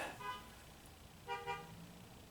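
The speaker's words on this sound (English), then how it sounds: "Hello, honking cars." Car horns honking outside, two short toots followed by a double honk after a pause, distant and moderately faint over a low background rumble.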